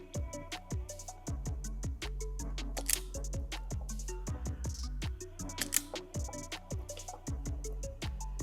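Wire cutters snipping through Honda Goldwing rear lighting wires, a run of sharp, close clicks and snips in an irregular rhythm, quiet and alone with no talking.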